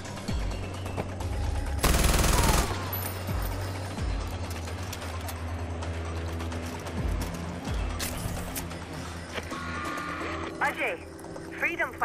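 Gunfire rattles in the video game Far Cry 4, with a loud burst early on and scattered shots later. Voices talk throughout over the fighting.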